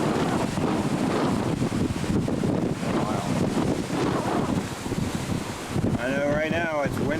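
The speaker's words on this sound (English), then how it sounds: "windy and the waves are really choppy" Strong wind buffeting the microphone on a boat over choppy water, with a constant roar of wind and waves and a brief whistling tone near the end.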